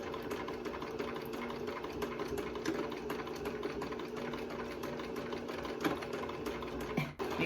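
A sewing machine stitches back and forth over the corners of a fabric face mask, running steadily and close at hand with a fast, even mechanical whir and a brief stop near the end.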